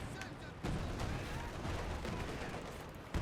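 Dense gunfire and artillery from the WWII strategy game Company of Heroes 2, a steady loud barrage of shots and booms filling the clip, with a stronger hit at the very end.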